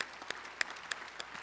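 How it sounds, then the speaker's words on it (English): Guests at a retirement reception clap quietly, a sparse, distant patter with a handful of distinct hand claps standing out at irregular intervals over a soft room background. "please give yourselves a round of applause"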